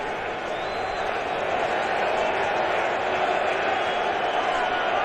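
A large baseball crowd at Citi Field during a 2015 NLCS game, a broad, steady murmur of thousands of fans that holds even throughout, with a faint swell of cheering and clapping.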